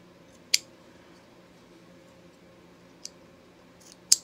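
Scissors snip off the loose ends of elastic sewn onto a fabric neckband, three sharp, isolated clicks spaced a few seconds apart over a quiet, faintly humming room.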